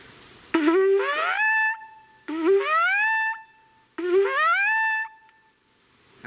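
Lips buzz into a horn in three separate held notes, each sliding upward in pitch before settling, clear and close with short silences between.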